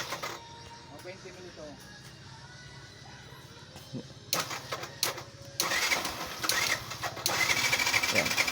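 A Yamaha YTX motorcycle with a misfiring, hard-starting engine cranks and sputters in uneven bursts that grow louder toward the end, with a faint voice heard early on.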